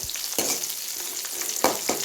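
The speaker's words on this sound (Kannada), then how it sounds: "ಇಷ್ಟನ್ನು ಎಣ್ಣೆಯಲ್ಲಿ ಸ್ವಲ್ಪ ಚೆನ್ನಾಗಿ ರೋಸ್ಟ್ ಮಾಡಿಕೊಂಡು" Onion, cumin, pepper and chillies roast in hot oil, a close sizzle broken by a few distinct stirring scrapes and clacks, with no talk.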